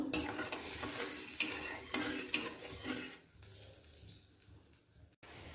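Water bubbling at a boil in a pan for a Bengali fish curry, a busy sizzling, frothy wash with occasional utensil scrapes, loud at first then settling quieter before a brief cutoff near the end.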